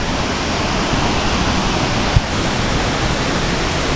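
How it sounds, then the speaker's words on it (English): Steady, loud roar of a waterfall in Bali, heard up close as continuous broadband rushing water with no voices. "So I have actually reached the waterfall."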